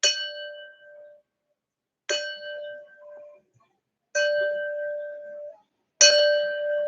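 A drinking glass holding water rings after each tap, four clear bell-like tones with bright overtones, each struck sharply and then fading over about a second, separated by silence.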